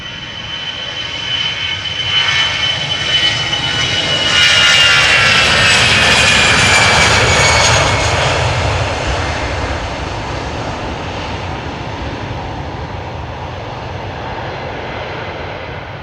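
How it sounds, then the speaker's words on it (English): A loud older-generation jet airliner with CFM56 engines roars past departing Amsterdam Schiphol, its engine noise swelling to a peak midway with a high whining tone, then slowly fading into a steady rumble. "Different sound, different generation engines. Old school"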